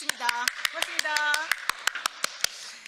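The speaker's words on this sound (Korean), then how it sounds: "서영교 의원님께 박수 한번 쳐드리겠습니다" A steady burst of rhythmic applause breaks out for a lawmaker at a press conference in the National Assembly's briefing room. Sharp, evenly paced claps from a small group continue under and after a speaking voice.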